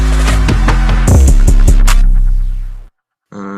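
Drum fill sample named Haku from Drum Kit Volume 4, a loud, punchy run of rapid hits over heavy sub bass that rings out, cuts to silence, then briefly restarts.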